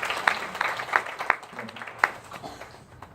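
A church youth worship congregation claps briefly, a handful of sharp separate claps spaced unevenly rather than a full ovation, with faint low voices underneath.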